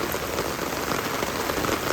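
Heavy rain falls in rural Bangladesh during the rainy season, a thick unbroken wash of drops striking surfaces nearby, even and sustained with nothing else standing out.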